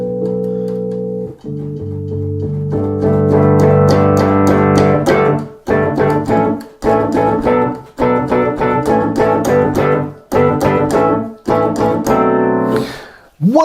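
Nord Electro keyboard playing Rhodes electric piano samples softly and dry, without reverb or other effects: sustained mellow chords with bell-like overtones, then a series of separate struck chords with clear decays, close and alone.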